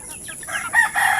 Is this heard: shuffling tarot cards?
no